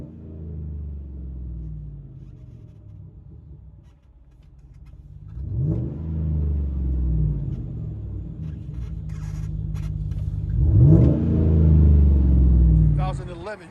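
A 2011 Chevy Tahoe with a 5.3L V8 and straight-pipe exhaust revs twice from inside the cabin, each burst a deep swelling roar that falls back to a steady low rumble.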